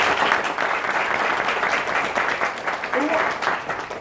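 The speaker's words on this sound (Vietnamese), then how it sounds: "Một tràng vỗ tay cho Duy nhất." Audience applause at a Vinalink Group multi-level marketing gathering, a dense steady wash of clapping filling the room throughout, with a brief voice-like tone near the end.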